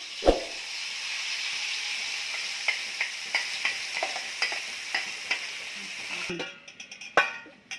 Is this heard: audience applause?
no